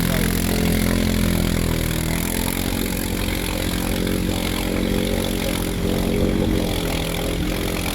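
An ATV revving hard at an off-road 4x4 show, a loud, steady engine roar that rises and surges without letup, up close and with no talk over it.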